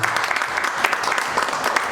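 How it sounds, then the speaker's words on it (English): Sustained applause from an audience at a stage event, dense overlapping claps continuing steadily throughout without pause. "Please give him a very big hand."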